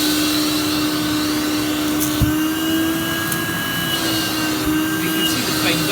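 A Hotpoint 3650/3651 cylinder vacuum cleaner running with its hose attached, a loud, steady motor drone with a constant high whine, plus a few brief bumps and knocks over the continuous roar.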